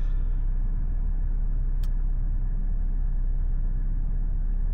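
A Volvo car engine runs at a steady idle, a continuous low rumble close by with no changes in pitch and nobody talking.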